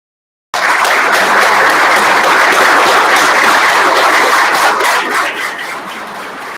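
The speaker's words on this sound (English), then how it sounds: "please rise and give a round of applause to these family members who have supported our graduates today" A large hall audience applauds family members who supported graduates at an ATF National Academy graduation ceremony, dense sustained clapping that starts abruptly, holds steady and fades slightly toward the end.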